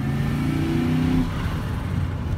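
A big truck's engine revs under partial throttle and kicks into boost, giving a loud, close, low drone that rises in pitch and then settles into a rougher rumble.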